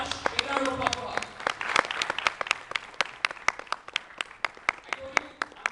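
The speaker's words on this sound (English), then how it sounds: "Big round of applause for her." Clapping from a small audience indoors, with sharp, distinct hand claps in an irregular patter, voices talking over the start, and the clapping thinning to a few close, steady claps toward the end.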